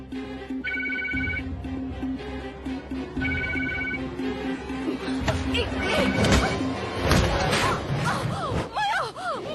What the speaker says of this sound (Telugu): ఎందుకు ఫోన్ తీయట్లేదు?